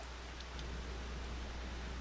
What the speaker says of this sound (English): That's why it's raining.